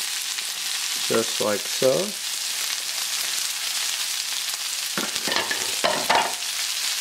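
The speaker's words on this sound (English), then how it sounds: "So now that that's browning, we're going to go ahead and add our cabbage." Cabbage and mushrooms sizzle steadily as they brown in a pan, a constant bright hiss with occasional stirring, while a voice speaks briefly near the start and again near the end.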